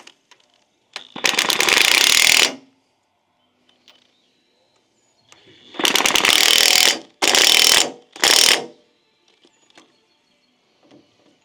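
Ratchet tightening disc brake conversion parts onto a wheel hub of a first-generation Cummins truck, heard in several loud rapid clicking bursts separated by quiet pauses, close up.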